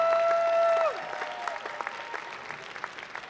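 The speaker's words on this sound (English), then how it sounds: "Round of applause for our families and friends who are coming out this evening." A sustained sung or instrumental tone cuts off, and an audience at a National Honor Society induction ceremony breaks into moderate, even applause that continues steadily, with a few sharper individual claps standing out.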